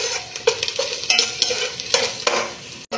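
Chicken and ginger sautéed in a pan, a close, crackling sizzle broken by repeated scraping stirs at an uneven rhythm, alone without talk.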